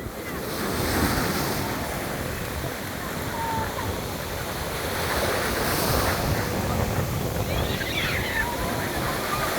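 Sea waves at Marsa Matruh beach, Egypt: steady rushing surf washing in and out, with wind buffeting the microphone and faint background voices.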